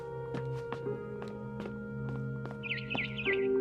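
A barn swallow chirps outside a window in the game What Remains of Edith Finch, making quick warbling chirps late on over a soft musical drone and light ticking sounds.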